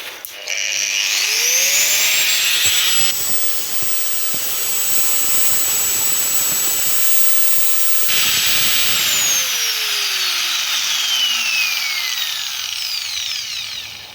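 A YT-82098 angle grinder with soft start spins up gradually to a loud, steady high-pitched whine at idle, holds there several seconds, then winds down in a long falling tone.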